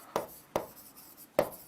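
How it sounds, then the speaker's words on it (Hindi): Three short, sharp marker or chalk strokes on a board as points are written, close and distinct with brief gaps between, alone without talk. "तो यहाँ पर पॉइंट लिख देते हैं"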